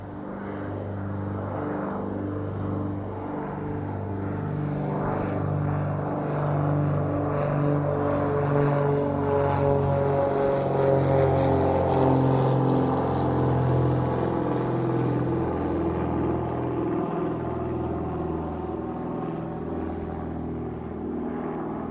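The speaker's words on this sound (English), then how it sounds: "Vulcan Air lifting off then." A Vulcan Air propeller aircraft takes off at East Midlands Airport, its engine drone and rising propeller buzz loud and continuous, swelling to a peak midway and then slowly fading as it climbs away.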